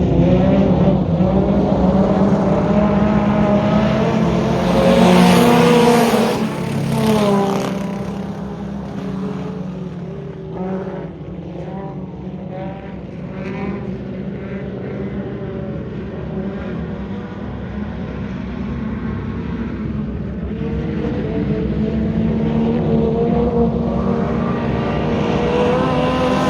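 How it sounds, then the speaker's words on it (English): Race cars roar around a dirt speedway during a heat race at 81 Speedway, with loud engines rising and fading as they pass and a constant hum from the crowd. "I'm gonna go and see this heat race"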